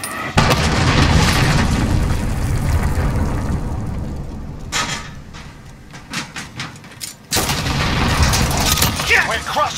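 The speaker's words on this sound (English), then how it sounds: "Enemy cruise missile incoming." A cruise missile explosion in Call of Duty Modern Warfare: a loud, deep boom with sustained rumbling blast noise, a quieter gap with scattered bursts, then another heavy blast near the end, with voices speaking over parts of it.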